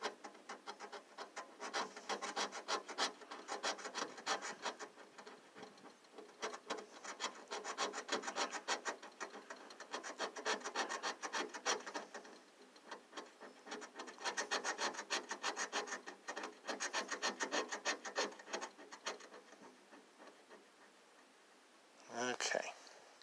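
A scratch-off lottery ticket being scratched at midnight for a Money Scramble game: continuous rough rasping and rubbing in bursts over about twenty seconds, close and fairly quiet, with a louder scrape near the end.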